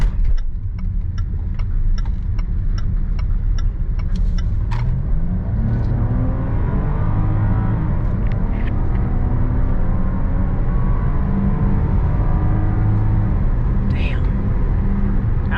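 A 2020 Range Rover Sport HSE cruising on a highway, with a steady, loud roar of wind and road noise filling the cabin throughout and low engine hum underneath, plus a few faint clicks early on.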